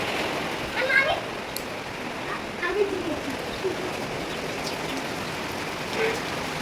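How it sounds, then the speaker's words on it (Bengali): Rain falls in a steady, even patter with a few brief louder knocks and faint chirps scattered through it. "আর এদিকে বৃষ্টিও এসে পড়েছে।"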